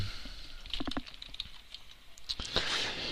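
Brief run of computer keyboard typing as a folder name is entered in electrical design software, quiet close clicks in small bursts with short pauses, no voices.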